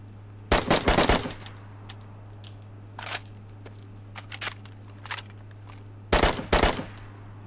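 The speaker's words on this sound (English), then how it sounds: "Fuck, he's shooting at me." In a video game, an enemy fires several short bursts of rapid gunfire, loud, clipped and spread out, with quieter single shots between them.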